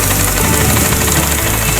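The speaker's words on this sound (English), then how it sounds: "Nice little engine here." A small Foster steam traction engine running at a steam and country show, giving a steady, loud mechanical chugging and knocking that fills the short clip without a break.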